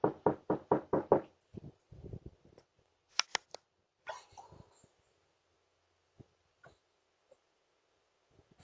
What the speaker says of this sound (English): Another late-night creep knocking on the door.